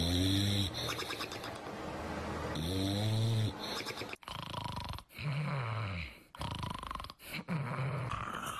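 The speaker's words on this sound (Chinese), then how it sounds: "第一，打呼噜。" Loud, close human snoring in repeated deep rasping breaths, each rumbling inhale followed by a short pause, steady and rhythmic with no talk.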